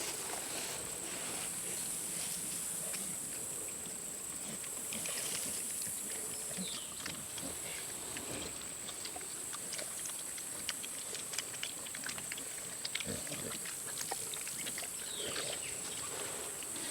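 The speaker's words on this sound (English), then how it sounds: "Just like people, pigs love watermelon on a nice hot day." Pigs, a few young gilts just months old, munch watermelon outdoors on a hot day, with wet crunching and slurping patter running steadily under a constant hiss of insects.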